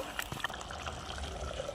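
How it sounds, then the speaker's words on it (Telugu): A tea glass of water pours into a curry cooking in a pot, a short splashing trickle followed by a steady wet gurgle. "కొంచెం నీళ్ళు పోసుకుంటున్నా, ఒక టీ గ్లాస్ నీళ్ళు."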